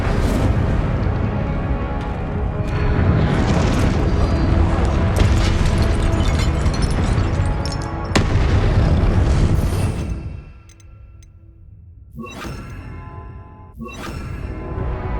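Heavy spell blasts and booming impacts from combat in the Hogwarts Legacy video game rumble loud and dense, then thin into a quieter stretch broken by sharp bright bursts, with shouted incantations mixed in.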